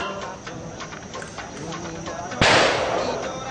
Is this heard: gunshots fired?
yes